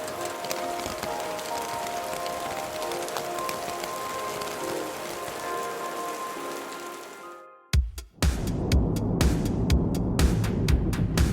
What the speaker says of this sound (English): The autumn colours were in full swing and the rain only added an extra layer of peacefulness.